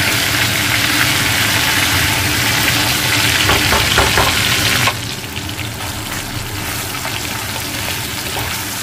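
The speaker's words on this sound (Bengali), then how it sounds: "মাথাটা অলমোস্ট ভাজা হয়ে গেছে।" Bhetki fish head, rubbed with salt and turmeric, frying in hot oil in a pan, a loud, steady crackling sizzle that drops slightly in level about halfway through, with no voices.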